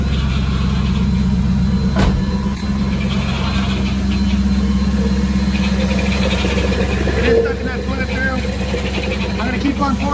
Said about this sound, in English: I'm gonna go ahead and turn the car on at this point